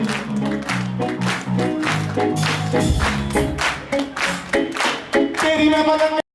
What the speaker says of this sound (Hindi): ताली की आवाज आनी चाहिए